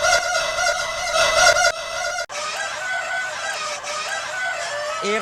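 Many hens inside a poultry breeding building call over one another in a loud, continuous din of overlapping squawks and clucks, briefly cut off before resuming.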